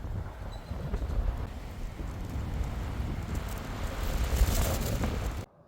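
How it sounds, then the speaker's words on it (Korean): Strong, typhoon-level wind gusts buffet a parked car during a car-camping stay, producing a continuous low rumbling roar that swells and eases before cutting off abruptly, with no voices. "바람 너무 많이 분다."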